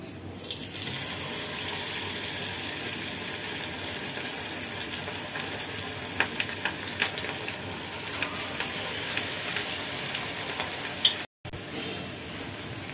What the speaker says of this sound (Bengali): এবার পাকোড়াগুলো ভেজে নিচ্ছি।